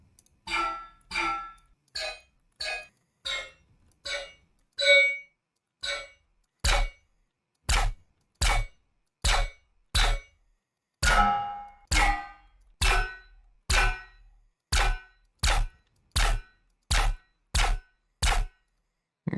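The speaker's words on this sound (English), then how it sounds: "I just got any kind of a metallic sound. This is just a pan. I think that I took the lid on it and just swished it on the pan." Metal pan lid swished against a metal pan, giving about twenty short metallic clanging hits in a steady, regular rhythm, each one ringing briefly before it cuts off, heard close and alone.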